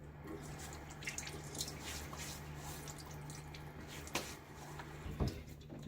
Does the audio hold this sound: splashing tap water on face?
yes